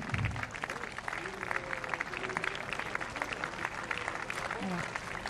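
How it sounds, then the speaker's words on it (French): Moderate audience applause at a tribute broadcast for a deceased runner, an even wash of clapping with a voice briefly audible at the start. "Je vous remercie de les applaudir."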